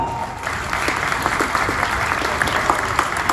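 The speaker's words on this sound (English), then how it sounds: "Big round of applause." A crowd claps continuously in a steady, loud wash of applause, with a few sharper individual claps standing out near the front.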